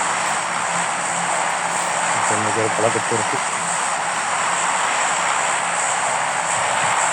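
A steady, loud airplane engine drone fills the whole clip in the PUBG battle royale game, a constant propeller roar with a voice speaking briefly over it.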